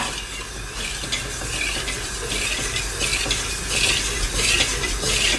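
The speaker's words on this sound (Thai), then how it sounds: "ก็จะกวนไปเรื่อยๆนะคะ" A spoon stirs and scrapes around a pot of pandan custard in a steady rhythm, soft swishes and clinks repeating close by.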